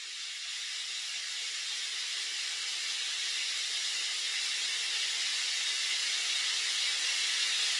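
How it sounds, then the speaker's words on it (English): Continuous white noise hisses evenly at a steady level throughout, broadband and unchanging, with no voices or other sounds. "This is your white noise."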